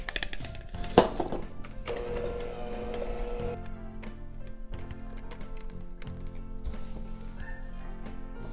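Electric mixer beating Christmas Linzer cookie dough as flour mixture is gradually worked in, a steady mid-level motor whir running continuously with a brief clatter near the start.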